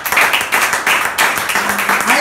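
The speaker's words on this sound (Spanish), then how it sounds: "Denle un aplauso a Jesús." A church congregation applauds, dense steady clapping in loud pulsing waves that fills the whole stretch, with a voice faintly underneath.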